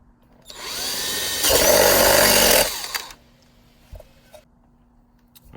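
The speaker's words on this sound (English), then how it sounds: "we're going to switch to a bigger drill bit. This will be a 3/8" Power drill fitted with a 3/8 bit boring a hole while mounting an external battery on a Gentoo sprayer: one loud whining burst of about two and a half seconds, rising in pitch midway, then quiet handling knocks.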